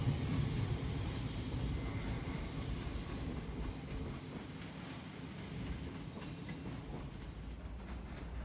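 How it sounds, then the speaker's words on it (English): A Southern passenger train from Caterham rolls into South Croydon station with a steady rumble and faint wheel rhythm, fairly distant and slowly fading, with no talking. "incoming now with a 1051 Southern service from Caterham and Caterham"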